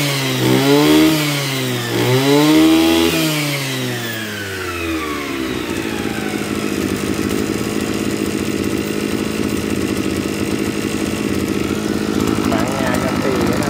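Kawasaki TH34 34cc brush cutter engine revs up and down, then settles into a loud, steady high-pitched drone. It sounds nearby.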